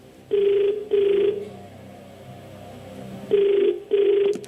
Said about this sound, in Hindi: फोन लगाया जाए